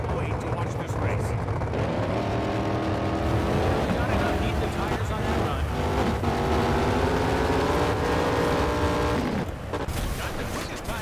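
Drag race car in an NHRA drag racing video game doing a burnout and launch, a loud sustained engine roar rising in pitch as it accelerates, then cutting off, with a voice talking over it.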